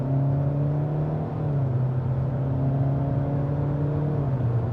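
A 2025 Kia K4 LXS engine pulls at about a third of throttle in normal mode, giving a steady, fairly loud hum with a rising tone from inside the cabin, no talk over it.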